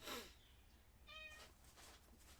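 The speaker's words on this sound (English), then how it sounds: "is that a cat? It's a cat." A cat meows once, close by and fairly loud, at a Thanksgiving Day gathering where it hopes to be fed. A brief breathy noise comes first, and the room is otherwise quiet.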